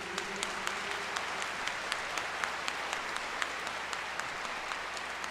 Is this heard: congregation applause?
yes